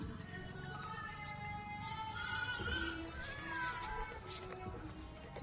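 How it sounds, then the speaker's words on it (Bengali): A goat bleats several times close by, with wavering, drawn-out calls over a steady outdoor background noise. "এ ছাগল মাতা"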